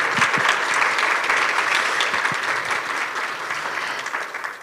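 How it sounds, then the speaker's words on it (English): An audience at a Juneteenth community roundtable claps for the panelists, a dense burst of applause that slowly tapers over a few seconds. "can we give them a round of applause"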